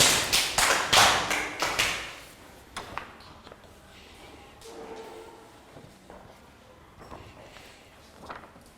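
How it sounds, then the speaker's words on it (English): A classroom of Year 3 pupils claps in a short burst of rhythmic rounds of applause, near and fairly loud, fading into quieter room sounds and scattered taps. "Round of applause for Pak Bung."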